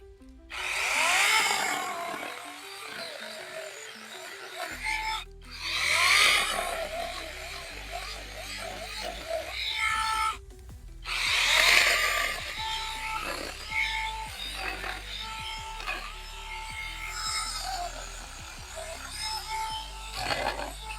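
A PRO-CRAFT PKA46 cordless saw bites into raw wood in three loud, close bursts of whining motor and cutting rasp, with short quiet breaks between them and a long final cut.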